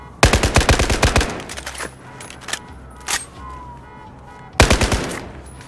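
Gunfire in a video game plays as a loud, rapid automatic burst of many close shots, followed by a few scattered single shots and then another sharp burst, with a faint whistling tone in the background.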